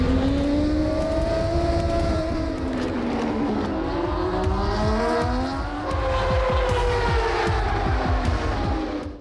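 Racing motorcycle engines scream and rev hard at the start of a MotoGP race, loud and close, with pitch sweeping up and down through repeated throttle blips and gear changes.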